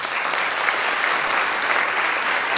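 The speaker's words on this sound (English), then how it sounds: "Let's give Stephanie a round of applause." An audience at a live poetry and music performance event applauds, a continuous, bright, evenly sustained clapping from many hands throughout.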